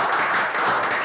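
An audience claps and applauds at an Indonesian athlete talk event, a dense, steady burst of clapping that fills the whole short moment without a break.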